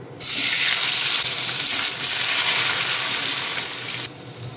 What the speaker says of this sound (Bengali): এখন আলুগুলোও ভেজে নেব।